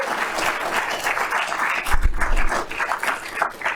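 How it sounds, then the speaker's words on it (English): Audience applause at an annual environmental law symposium, a dense sustained patter of many hands clapping in a hall, lasting the whole few seconds with a brief low thump partway through. "I think that deserves a round of applause."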